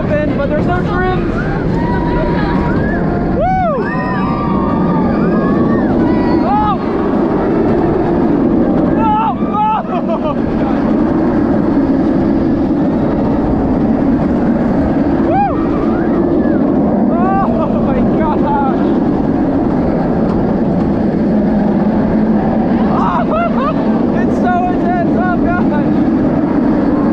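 Roller coaster ride on Monster, the signature coaster at Walygator Grand Est in Metz, France: a constant loud roaring rush of wind and track rumble throughout, with a rider's voice shouting and exclaiming over it.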